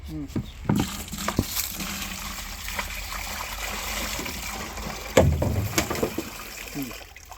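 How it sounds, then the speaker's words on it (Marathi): Water pours and trickles into a bucket while mixing jivamrut, splashing unevenly with a couple of stronger gushes, close by, with voices faintly in the background. "ते पाणी टाकून दे त्याच्यात"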